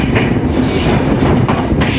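The Banalata Express passing through Tongi railway junction, a loud continuous rumble of wheels on track with rhythmic clatter, heard close from on board.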